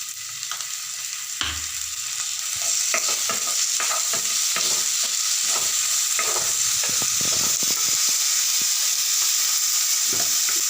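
Ginger-garlic paste fries and is stirred in a pan with mung dal for a potato and pointed gourd dish, a steady sizzle under repeated scraping and clinking stirs, close and fairly loud with no talk.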